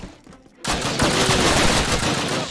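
Gunfire in the Call of Duty video game: after a brief quiet moment, a loud, sustained burst of rapid automatic shots erupts and keeps rattling on in a dense, continuous volley with no speech.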